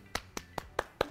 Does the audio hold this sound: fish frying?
no